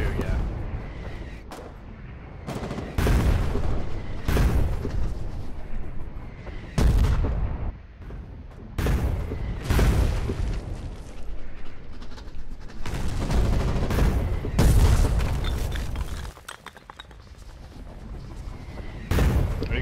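Artillery fire in the video game Foxhole, 120mm shells hitting safehouses in Therizo: repeated heavy booming blasts spaced a few seconds apart, loud and close, with other gunfire and voices talking between impacts.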